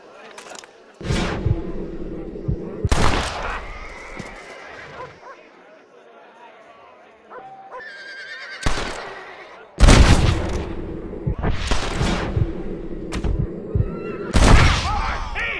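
Gunshots from the Western video game Red Dead Redemption come as several loud, sharp cracks spread across a tense standoff, with booming reports between stretches of quieter ambience and voices talking.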